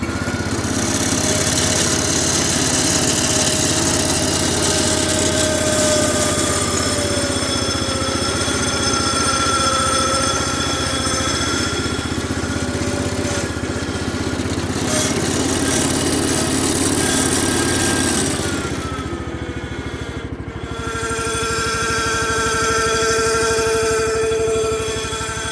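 An old 1250 tractor engine runs steadily, a loud, close, rough drone with a constant rattle as it is driven up a hill, the tone dipping and shifting near the end.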